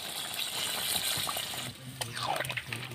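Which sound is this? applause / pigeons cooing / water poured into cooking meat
water poured into cooking meat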